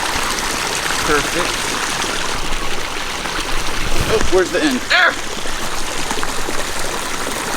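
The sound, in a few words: water stream pumped through a hose by a soap pump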